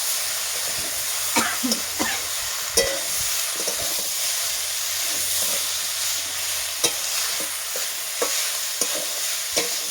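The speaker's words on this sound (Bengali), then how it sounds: "সেই সিদ্ধ করে রাখা সবজিগুলো আমি এখন দিয়ে দেবো। আমি ওটাও একটু ভালোভাবে নেড়ে নিই।" Boiled vegetables, including potato, bottle gourd, papaya and tomato, are stirred as they fry in a pan, giving a steady sizzle and hiss punctuated by repeated sharp scrapes and knocks of the spoon against the pan.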